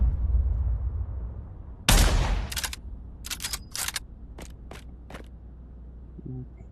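Gunfire at a WW2 shooting range in the Pavlov VR game: one sharp close shot followed by a string of lighter, spaced cracks, with no talk over a low steady hum.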